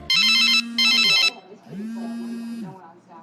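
Two loud electronic telephone rings sound close by in quick succession, each a bright warbling burst, followed by a voice talking over a quieter trailing tone.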